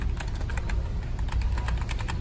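Rapid, steady typing on a computer keyboard at a gaming PC build, dense close key clicks in an even stream with no talk.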